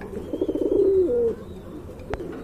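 A black pigeon gives a single soft, throaty coo lasting about a second, fairly close and alone, followed by a brief sharp click.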